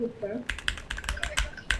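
Typing on a Volcano RGB computer keyboard: a close, crisp run of clicky key presses in an irregular rhythm after a short quiet lead-in.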